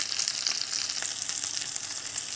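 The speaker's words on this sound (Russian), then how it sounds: "Ну, вот как наши рыбки жарятся." Crucian carp frying in oil in a hot pan, a steady close, bright crackling sizzle that holds evenly throughout with no voices.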